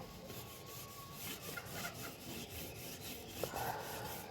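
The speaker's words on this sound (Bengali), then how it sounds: "এভাবে কাপড় দিয়ে ঘষে ঘষে প্রাইমারটা লাগিয়ে নেব" A cloth is rubbed back and forth over a wooden board to work in primer for a homemade blackboard outdoors. The result is a faint, continuous scraping and rasping texture with a light tap near the end.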